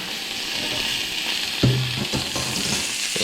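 Ribeye steak sizzles steadily in a hot frying pan, a close, continuous crackle with a brief louder spatter partway through as it is turned and butter goes in.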